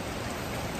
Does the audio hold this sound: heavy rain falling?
yes